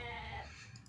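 A goat in the Age of Mythology strategy game lets out a single quiet, wavering bleat that fades over about a second amid faint game sounds.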